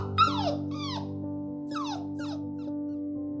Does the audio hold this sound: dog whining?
yes